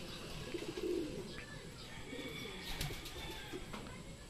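Racing pigeons cooing at a club training session, soft low coos repeating close by over a quiet outdoor background, with a few faint chirps mixed in.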